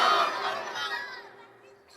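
Crowd at a Bangladeshi religious waz gathering shouting back in unison in answer to a call for takbir, a loud massed roar that swells at once and then fades.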